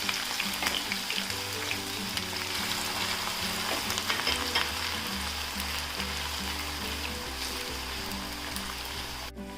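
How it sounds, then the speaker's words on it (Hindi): Onions frying in hot oil for chicken korma, giving a dense, continuous sizzle and crackle, with no voices over it. "तो अब ये हमारा गर्म हो चुका है, इसमें डाल देते हैं हम प्याज और प्याज को हम हल्का सा सुनहरा कर लेते हैं"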